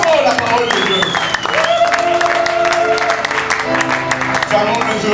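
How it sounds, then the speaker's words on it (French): A church congregation claps and cheers loudly and continuously, a dense wash of applause with voices and tones ringing through it. "Acclamons très fort la parole de Dieu."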